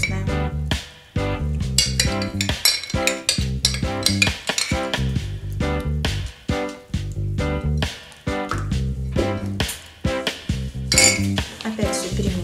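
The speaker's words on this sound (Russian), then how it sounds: "Опять все перемешиваем хорошенько." A spoon stirs cottage cheese casserole batter with sour cream and soda in a bowl, giving close, steady scraping and clinking against the dish in a busy rhythm throughout, with no talk.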